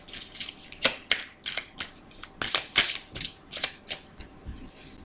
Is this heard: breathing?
no